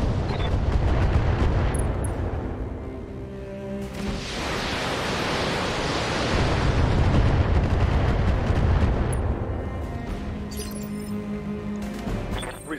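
Mech weapons in Battletech fire in a long, dense barrage of booming blasts and rumbling impacts, loud and sustained, swelling in the middle before tapering off.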